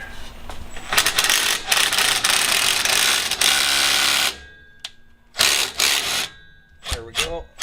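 A 13mm impact socket on an impact gun loosens a brake caliper slide bolt, with a loud sustained mechanical whirring burst for several seconds followed by shorter rattling bursts and clanks.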